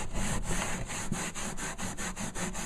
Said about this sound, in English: you come in and you rub it, and it will lift all the glue.